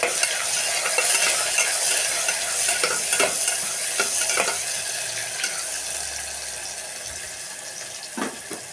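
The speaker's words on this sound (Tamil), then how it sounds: "நல்லா வதக்கணும்." Food sautéing in a pan, a close continuous sizzle broken by repeated scraping and clacking strokes of a stirring spoon, no one speaking.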